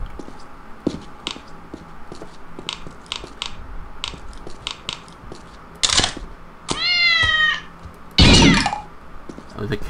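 In Postal 2, a video game cat lets out two or three short meows late in the stretch. Earlier there is a run of scattered clicks and thumps, and a loud burst sits near the end.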